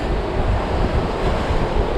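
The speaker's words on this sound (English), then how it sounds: "How many of you could just sit in a spot and just watch these waves crash" Ocean surf breaks and washes steadily onto a South Carolina barrier island beach after a hurricane, a dense continuous roar with wind buffeting the microphone and no voices.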